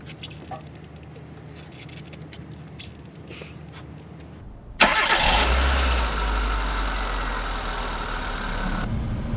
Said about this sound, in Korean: 어느 정도 에어가 빠졌다고 생각이 되면 차량에 시동을 걸어줍니다